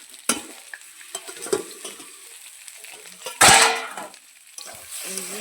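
Potatoes frying in hot oil in a home kitchen pan, with a soft steady hiss under scattered utensil clinks and scrapes and one loud sizzling burst midway that fades slowly.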